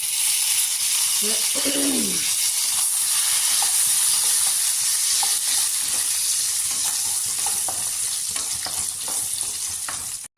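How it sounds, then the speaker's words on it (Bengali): Peanuts fry with potatoes in a pan, giving a steady, close sizzle and crackle throughout, with a brief voice near the start. "বাদামগুলো আলুর সাথে ভাজে নিতেছি।"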